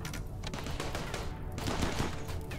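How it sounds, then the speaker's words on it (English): Turrets explode amid spreading fire in the video game Rimworld, a dense, continuous crackle of rapid bursts and blasts with no pauses, loud and steady throughout, swelling slightly near the end. "That is so much fire, and those turrets are exploding."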